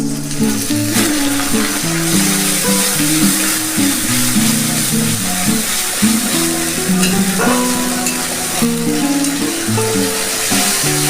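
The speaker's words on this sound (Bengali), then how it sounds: "পেঁয়াজটা ভাজা হয়ে গেছে আমি এখন দিয়ে দিচ্ছি আদা রসুন বাটাটা" Ginger garlic paste added to fried onions in a pan, giving a loud continuous close sizzle with stirring scrapes, under a steady background hum of music.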